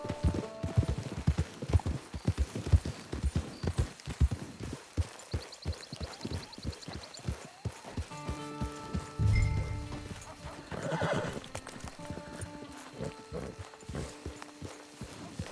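Horse hooves clip-clop steadily in the video game Red Dead Online, with occasional neighing and whinnying, the hoofbeats rhythmic and close amid in-game ambience.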